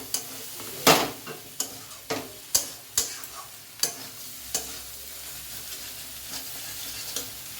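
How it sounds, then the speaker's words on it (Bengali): Food being stirred in a pan after salt goes in, a run of sharp scraping clacks coming irregularly, loud at first and fading softer, over a low hiss with no talk. "নুনটা দেওয়ার পর নাড়াচাড়া করে নিতে হবে।"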